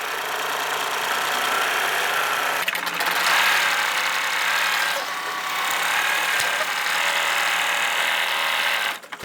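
An embroidery sewing machine runs steadily, stitching quilting on a baby blanket with a continuous mechanical whir and a few brief pauses and shifts.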